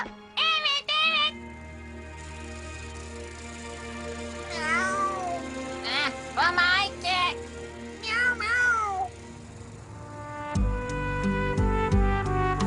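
A small cartoon kitten mews repeatedly in short, high-pitched bursts, alternating with stretches of music in the background.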